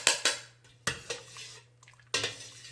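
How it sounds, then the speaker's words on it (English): A netted ladle knocks and scrapes against a metal pot while skimming impurities from simmering beef shank broth for Bun Bo Hue, giving three sharp clanks spaced apart over a low steady hum, close and fairly quiet. "this is a nice ladle, netted ladle that you can use to skim off any of the impurities that came off of the shank"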